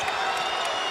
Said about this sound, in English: The crowd erupts in Providence.